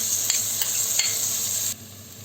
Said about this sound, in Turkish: Soğanlarımız bir süre kavrulduktan sonra şimdi içerisine doğramış olduğumuz biberlerimizi ekliyoruz